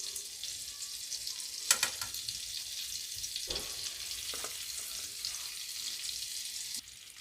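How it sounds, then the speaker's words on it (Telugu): Two spoons of butter sizzling in a pan for pav bhaji, a faint steady frying hiss with a few soft clinks and a scrape, quiet and without voices. "బటర్ కూడా మెల్ట్ అయిపోయిందండి."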